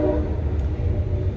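A train rumbles by near a railway track, a steady loud low roar filling the whole moment without a break.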